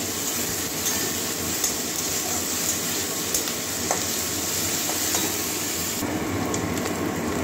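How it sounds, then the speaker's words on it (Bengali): Grated onion frying in a pan for a paneer and soya chunk curry, giving a steady close sizzle with faint stirring scrapes and no voices. "এবারে গ্রেট করা পেঁয়াজটাও দিয়ে দিচ্ছি। এটা কাঁচা লঙ্কা দেওয়া পর্যন্ত ভাজবো।"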